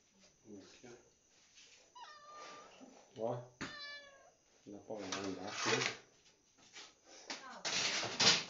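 A cat at a pizzeria meows several times, with drawn-out calls close by, while people talk nearby.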